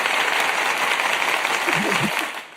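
Applause during a live horror talk show, heard as a dense burst of clapping that runs steadily and then drops off near the end as a voice briefly starts speaking.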